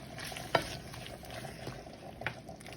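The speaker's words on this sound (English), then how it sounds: "Then you mix it thoroughly." A dish being mixed thoroughly with its dressing, with a couple of sharp utensil scrapes and knocks over a continuous sizzling, hissy background at close range.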